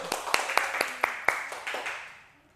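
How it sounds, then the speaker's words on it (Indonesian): A small classroom group claps for a student during a Quranic reading lesson, a short burst of about a dozen sharp, close claps that slows and fades out within a few seconds. "Bagus, Mbak Febi, tepuk tangan dulu"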